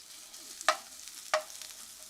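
Onion and pepper sizzle softly in a hot stir-fry pan, with two sharp clicks of a utensil against the pan over a faint steady frying hiss.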